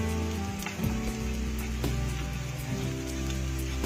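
Cauliflower rice seasoned with Himalayan pink salt and black pepper sizzling in a pan on medium heat, a continuous close crackle with a few low-pitched tonal sweeps running through it.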